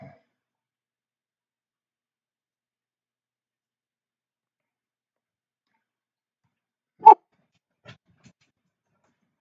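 After long silence, a dog gives one sharp, clear bark followed by a couple of fainter, shorter yips, heard in a quiet room at moderate distance.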